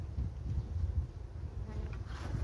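Honeybees buzz steadily around a hive during a beekeeper's colony inspection, a dense low continuous hum close by with no talk over it.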